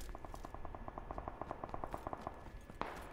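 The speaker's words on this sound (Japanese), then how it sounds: "80の方で銃声。" Gunfire in PUBG sounds off in the distance. A rapid, even string of automatic shots runs for about two seconds, faint over low background noise, and one sharper crack follows near the end.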